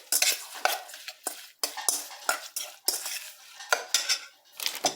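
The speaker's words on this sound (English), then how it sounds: "Grab my spoon and I make that into a nice thick paste." A spoon scrapes and clinks against a bowl while mashing spices into a thick paste for a jerk chicken marinade, in irregular close bursts of scraping strokes with short pauses and no talk.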